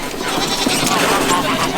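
A goat bleats nearby while people talk close by in a noisy outdoor setting.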